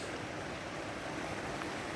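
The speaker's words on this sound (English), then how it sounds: "There's the water flowing across this." A creek runs across a muddy forest trail, its water rushing in a steady, broadband hiss that stays even and close throughout with no voices.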